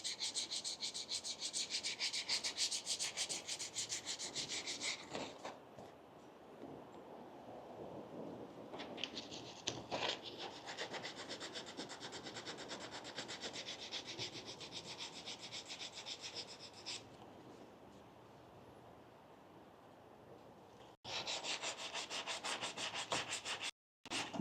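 Car body filler is hand sanded with a folded sheet of sandpaper, producing a continuous close, hissing rasp of quick back-and-forth strokes that eases off partway through, then returns loudly near the end.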